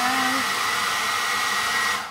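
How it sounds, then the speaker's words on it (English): A hair dryer powered by an ALLPOWERS S-2000 Pro power bank blows steadily with a loud, even whooshing whine, then cuts off at the end. "running the hair dryer"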